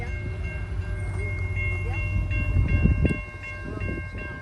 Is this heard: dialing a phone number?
no